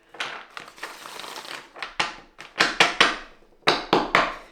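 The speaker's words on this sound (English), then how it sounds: "Okay, one more shuffle." Tarot cards being shuffled by hand, a series of crisp riffling bursts and papery slaps arriving in quick irregular clusters, close and fairly loud with short pauses between.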